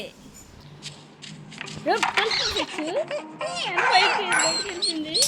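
A dog in the video game Robbery Bob barks and whines repeatedly, getting busier toward the end, over a quiet background hum.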